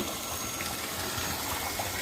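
A water pump motor runs steadily while filling a rooftop tank, its low continuous hum blending with a soft rush of flowing water, constant and moderately quiet throughout.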